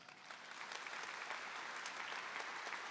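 A church congregation breaks into applause during a priest's sermon, a steady wash of many hands clapping that swells slightly after the first half second and holds at an even level, fairly distant and without voices.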